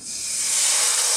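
Coconut milk hitting a hot wok, a rising hiss of steam that swells to a broad, steady sizzle within a second, close and clear with no voices.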